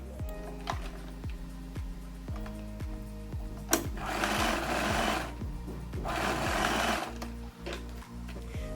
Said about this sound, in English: I'm going to stitch the shoulder seam